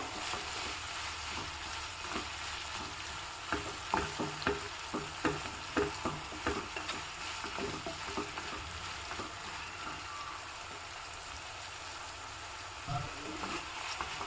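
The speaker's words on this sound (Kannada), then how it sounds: "ಟೊಮೊಟೊ ಈರುಳ್ಳಿ ಎಲ್ಲ ಸ್ವಲ್ಪ ಚೆನ್ನಾಗಿ ಫ್ರೈ ಆಗಬೇಕು" Tomato and onion fry in a pan with a steady, close sizzle, broken by scattered clicks and scrapes of stirring, with no talking.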